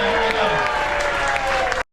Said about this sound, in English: Give Rob a cheer down here.